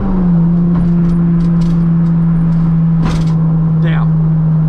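A Honda Integra engine with VTEC holds a steady high-rpm drone near redline, loud and close, with brief mechanical clicks and a short rising blip near the end.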